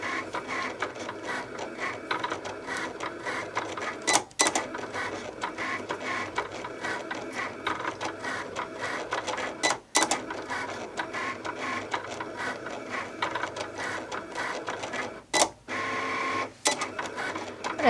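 A Cricut Explore cutting machine slices through craft foam with a steady, close mechanical whir and buzz as the carriage moves, broken by a few brief pauses and clicks.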